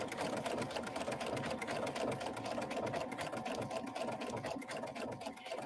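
A sewing machine fitted with a side cutter foot stitches fabric in a fast, even mechanical whir of rapid needle strokes. The sound is continuous and close, with no talking.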